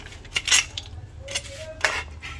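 A utensil scrapes and clinks against a cooking pot of mussels and squash in coconut milk, a few sharp metallic strokes with a soft bubbling under them.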